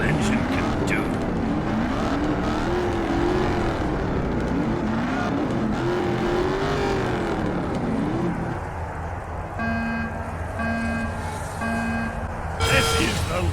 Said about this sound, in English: Let's see what this old engine can do.